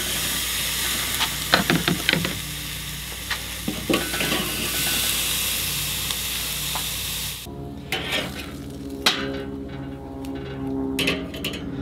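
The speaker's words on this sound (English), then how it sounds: "I'm going to put these sausage burgers back on there and give them just a quick sear." Sausage burgers searing in a hot pan, with a steady loud sizzle and scattered pops and crackles, close up, the frying continuing throughout with occasional scraping.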